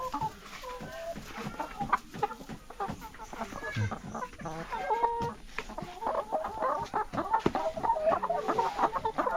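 A flock of backyard laying hens clucks continuously and fairly close, with overlapping short calls and chatter forming a busy coop din throughout.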